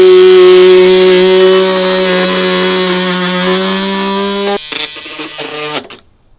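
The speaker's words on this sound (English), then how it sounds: "We'll go straight across the top with this multi-tool, then we'll just trim our sides" An oscillating multi-tool saws across wooden fence boards for a gate, a loud close high-pitched whine holding steady for several seconds before stuttering and cutting out.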